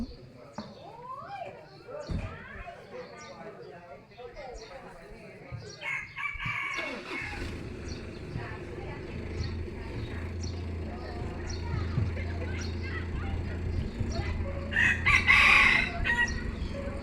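A rooster crows near the end against a busy background of voices, children and household noise, with more fowl clucking around it.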